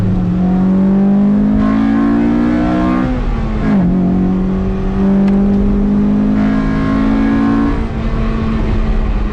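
A 1997 Honda Civic EK9 Type R engine revs hard and climbs in pitch as VTEC kicks in, drops briefly as it shifts, then climbs again in a long, loud, sustained pull.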